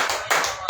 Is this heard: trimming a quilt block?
no